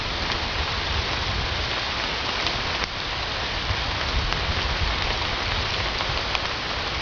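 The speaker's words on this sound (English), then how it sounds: "listen to the rain." Steady rain falling after a month-long dry spell, a dense, even hiss of drops on surfaces with no pauses, close and continuous throughout.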